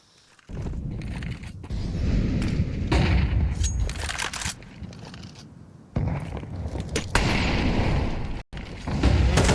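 Grenade blast in a Counter-Strike 2 match, heavy bursts and gunfire-like booms crowding together over several seconds, loud and dense, with a sharp dropout before a final burst.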